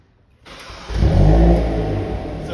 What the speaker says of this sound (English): I'm going to start it up so you can hear it. It has a nice popcorn sound to it.